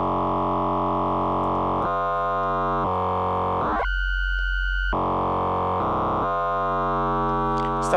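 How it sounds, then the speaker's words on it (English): Sustained synth tones shift through several chords, some notes clashing against each other in rough, beating intervals, with a brief sweep in the middle. "Or I can play even with dissonant intervals"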